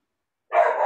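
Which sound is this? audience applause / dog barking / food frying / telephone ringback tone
dog barking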